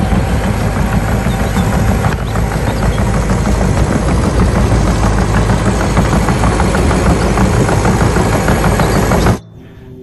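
A toy bulldozer's engine sound plays continuously and steadily, a loud, rumbling idle with a buzzing, vibrating texture that cuts off abruptly near the end.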